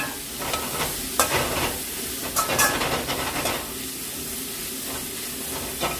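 Black kavuni rice noodles stirred in a hot pan, a steady sizzle with scraping spatula strokes and occasional louder clatters, close and continuous with no talking.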